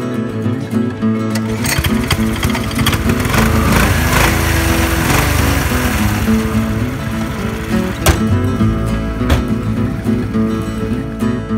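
A Honda Insight car refitted with a $99 lawnmower engine starts and runs with a steady, buzzing small-engine drone, loud and close throughout, with brief clicks and knocks over the constant hum.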